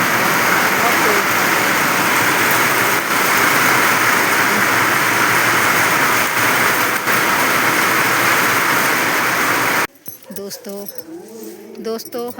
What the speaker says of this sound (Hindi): हवा भी चल रही है, कितनी बारिश हो रही है बहुत तेज़।